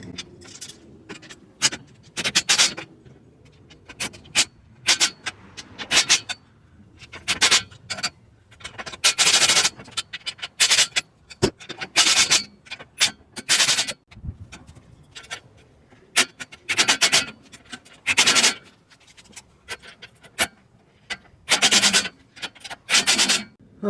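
Wrench tightening bolts on a Harbor Freight cargo carrier: close, irregular bursts of scraping and ratcheting clicks, stopping and starting repeatedly with brief quiet gaps, no talking.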